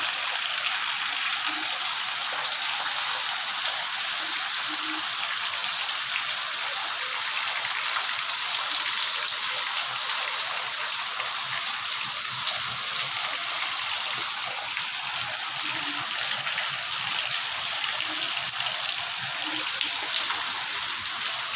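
Heavy rain pours in a dense, continuous hiss of water, steady and loud throughout with no voices.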